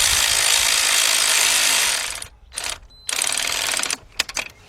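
Air impact gun running the starter bolts in on a Cadillac Northstar-era car (Deville, Eldorado, STS type), a loud sustained whirring burst, a short gap, then another long run followed by a few quick hammering taps.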